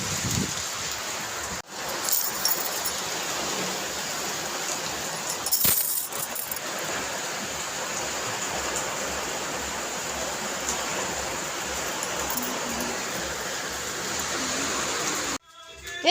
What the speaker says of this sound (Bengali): তো কী জোরে বৃষ্টি এসছে